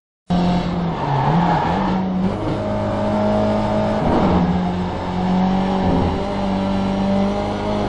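Race car at Watkins Glen in the iRacing simulator, engine droning and shifting pitch through turn one with tire squeal, loud and continuous from start to finish.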